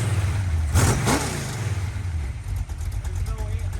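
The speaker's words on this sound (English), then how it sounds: "checks the throttle, the response, and the sound of the new engine" A newly built Ford hot rod engine revs up sharply twice during a throttle check, then settles into a loud, steady rumbling idle up close, with voices present.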